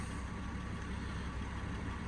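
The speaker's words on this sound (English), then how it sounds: "You can actually hear the Astra that's running in the background over the engine of this BMW" A steady, even engine idle from a 2007 BMW 325i E93 petrol automatic convertible, with a Vauxhall Astra also running in the background, hums throughout, a continuous low rumble with no revving, heard at moderate distance.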